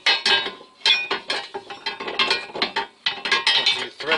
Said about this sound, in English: Once it's threaded, thread it all the way up until it seats.